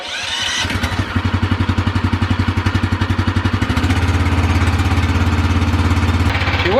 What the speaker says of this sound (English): May as well put a little gas in the pump motor.